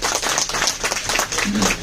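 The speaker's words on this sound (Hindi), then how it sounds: "जयदेव भाई और शिल्पा बहन और धारा बहन के लिए जोरदार ताली हो जाए" An audience claps in a dense, steady burst of applause for the speakers at a meeting, close and loud throughout.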